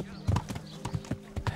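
Horse hooves in the medieval video game Kingdom Come: Deliverance, a brisk run of clip-clop footfalls in an uneven galloping rhythm, close and clear, with a low tonal hum beneath.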